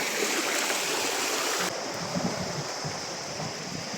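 Steady rushing of a flowing stream in Madha, Oman, continuous broadband water noise close by with no voices.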